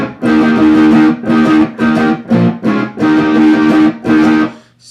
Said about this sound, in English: As you can hear, I've got some distortion on, which obviously helps with this part.